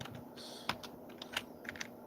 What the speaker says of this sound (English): I suck at typing with one hand.